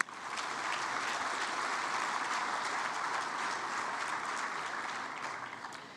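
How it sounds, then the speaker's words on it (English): Audience applause at the opening ceremony of the Commonwealth Business Forum in Kigali, a steady wash of many hands clapping that holds evenly throughout, moderately distant with no voices over it. "Please, a warm round of applause for every country represented here"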